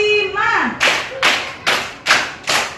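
Rhythmic group clapping in an elementary school classroom, five sharp claps in a steady beat following a short spoken cue, loud and close.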